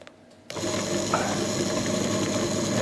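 Mannesmann benchtop drill press switching on after a quiet moment, then running with a steady whirring, gear-like mechanical hum at close range.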